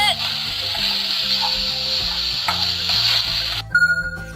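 An Anpanman toy frying pan plays an electronic sizzling hamburger sound, a steady crackling hiss for several seconds, then a short ringing chime that fades, with no one speaking.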